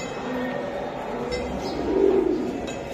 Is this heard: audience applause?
no